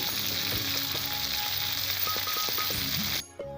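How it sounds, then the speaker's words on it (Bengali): Bora fritters frying in a pan of hot oil, with a loud continuous sizzle close by and a few clinks of a utensil that stops abruptly just before the end. "এইভাবে বড়াগুলো ভাজা নিতেছি"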